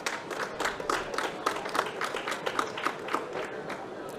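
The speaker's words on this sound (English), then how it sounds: "Please, a round of applause for Sonia." Moderate audience applause at a solar energy conference, a steady patter of many hands clapping at medium distance, tapering off toward the end.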